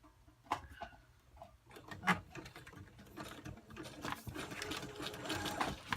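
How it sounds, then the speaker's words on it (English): A sewing machine zigzag-stitches through paper in quick, uneven bursts of rapid mechanical ticking, starting and stopping before running more continuously. "I put my sewing machine onto the zigzag stitch, and here we go."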